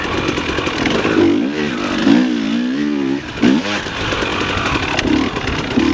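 A 350 cc dirt bike engine runs close by, revving and easing through gear changes in a steady, loud drone with rising and falling pitch, no voices over it.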